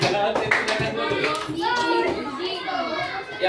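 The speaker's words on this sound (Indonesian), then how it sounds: "Oke, tepuk tangan untuk kelompoknya Jovita." Children in a classroom clap for a group, with scattered uneven handclaps under lively overlapping children's voices and chatter.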